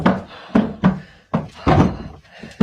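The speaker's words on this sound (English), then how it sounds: "They probably just banging on the door or behind them." Someone banging on a door inside a reputedly haunted house, a series of heavy, hollow thuds arriving in irregular bursts, fairly close and loud.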